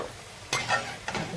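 Onion pakoda bhaji frying in hot oil, a brief low sizzle with two sharper bursts as pieces go in or are stirred, no voices.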